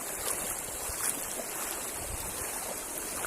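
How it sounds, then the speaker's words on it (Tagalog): A river flowing along a trekking route at Sitio Sapinit, Fianza, San Nicolas, Pangasinan: steady broadband rushing water, close and continuous, with a little wind noise on the microphone. "So tatawid kami sa ilog."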